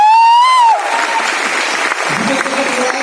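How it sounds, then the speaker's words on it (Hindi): Audience applause at a network marketing success seminar, a burst of clapping rising right after a voice and continuing steadily for a few seconds. "तालियां होनी चाहिए ना।"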